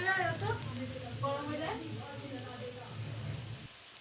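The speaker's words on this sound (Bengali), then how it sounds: "পকোড়াটা ভাজার জন্য দেখো বন্ধুরা পকোড়ার এক পিঠ হয়ে গেছে আর একটা পিঠ উল্টিয়ে দিলাম" Potato pakora sizzling as it fries in hot oil, a steady close crackle running throughout, with a voice talking over the frying early on.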